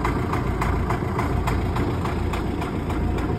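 Loader engine idling with a steady low diesel rumble and a regular knocking pulse, close and continuous, with no talk over it.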